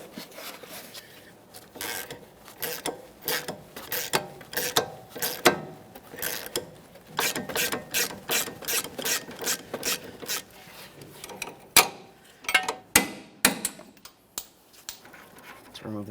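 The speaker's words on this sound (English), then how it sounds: "I'll be using a 3/8 drive ratchet on this stud." A 3/8 drive ratchet turns a strut mounting nut on a 2014-2019 Toyota Corolla front strut assembly, giving rapid bursts of close, crisp pawl clicks in uneven runs with short pauses between strokes.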